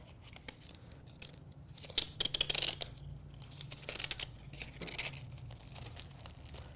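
Scissors snip and crinkle while trimming ribbon tails on a handmade Valentine's card, a few close, quiet cuts with faint paper rustling and no talking.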